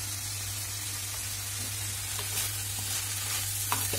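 Chopped amaranth leaves fry in a pan with a constant, fine sizzling hiss, steady and close, punctuated by a few faint crackles and light stirring scrapes.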